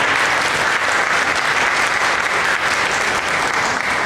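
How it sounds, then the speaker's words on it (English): Steady, dense applause fills a Toastmasters youth leadership meeting, a full room clapping loudly and evenly from start to finish with no talk over it. "The TMOD yet deserves another round of applause as he has handled the session so well tonight."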